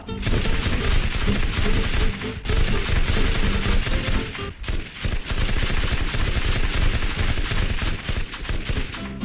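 Loud M249 machine gun fire in the video game Teardown rattles in long rapid bursts, with two brief breaks before the shooting resumes at full intensity.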